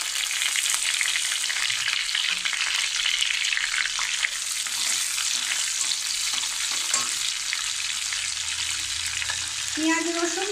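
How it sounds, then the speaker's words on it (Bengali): Bay leaf, cinnamon, cloves and chilli frying in oil for a prawn malai curry, a loud, close and continuous sizzle with occasional stirring, no talking. "ফোড়নে তেজপাতা, দারচিনি, লবঙ্গ আর লঙ্কা দিয়ে দিলাম।"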